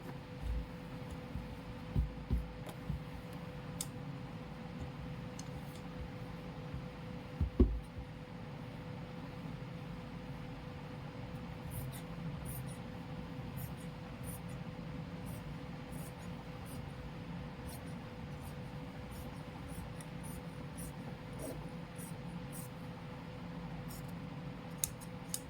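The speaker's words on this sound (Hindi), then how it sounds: "अब राइट साइड में जो एक्स्ट्रा कपड़ा है उसकी भी हम कर देंगे कटिंग।" Scissors cut away excess cloth from the side of a suit being stitched, giving a few sparse, crisp snips and one sharper cut over a constant low room hum, with no one talking.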